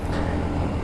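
A bus rumbles past on a road in Daraga, Albay, a loud, close, low engine-and-tyre roar that fills the brief moment.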